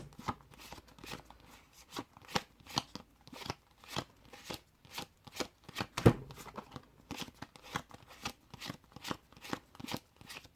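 A tarot deck being shuffled and leafed through by hand, a run of quick, close card riffles and flicks in uneven bursts, with one sharper tap midway and no talk.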